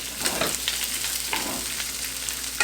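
Onions fry in a pan on medium heat as a spoon stirs them, for shrimp fajitas. The close, steady sizzle is broken by a few sharp scraping strokes, and no one speaks.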